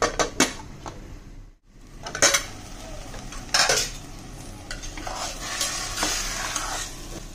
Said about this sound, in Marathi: तुकडे पडायला नाही पाहिजे. म्हणून आपण थोडं हळूवार हलवायचं.